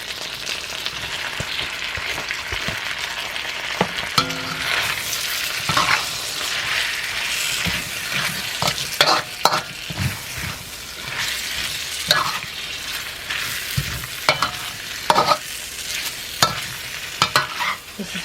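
Pork and onions are stir-fried in a pan, with a loud, steady sizzle broken by repeated clanks and scrapes of a utensil against the pan. The sound is close, and no one talks.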